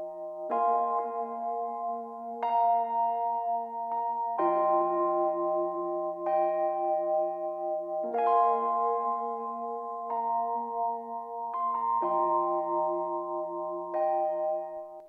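Piano chords played steadily through Cymatics Space Lite reverb with stereo width at zero, a sustained, evenly repeated pattern with long ringing tails, clear and unaccompanied.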